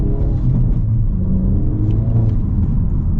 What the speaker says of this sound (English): Ooh, the exhaust instantly gets louder.